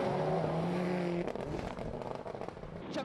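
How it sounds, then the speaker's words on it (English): A four-wheel drive Subaru Impreza rally car roars close by, a steady engine drone at first giving way to rough, crackling bursts and gravelly rumble as it pulls away, with no speech. "the four-wheel drive Subaru Impreza"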